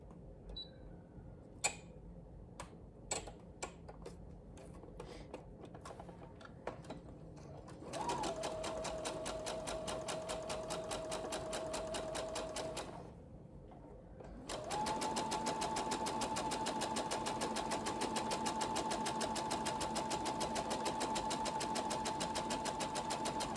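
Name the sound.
sewing machine running gathering stitches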